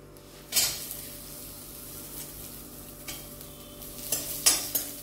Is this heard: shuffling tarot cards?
no